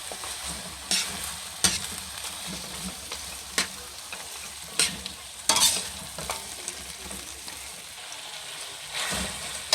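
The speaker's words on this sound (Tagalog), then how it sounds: "lagay na natin to ribs ng baka. Saka natin haluin na naman" Beef ribs sizzle and fry in a pan while a utensil stirs them in sharp, irregular scrapes and clacks over a steady crackle, close and fairly quiet, with no talking.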